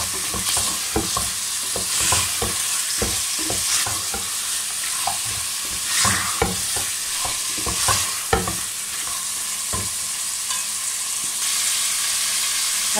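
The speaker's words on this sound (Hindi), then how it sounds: "मैं इसे अच्छी तरह भूनूंगी, तकरीबन 5 से 6 मिनट तक मैंने इसे भूनना है दरमियानी आंच पर" Beef white korma fries over medium heat, with a steady sizzle broken by frequent spatula scrapes and knocks against the pot in an uneven rhythm; no talking.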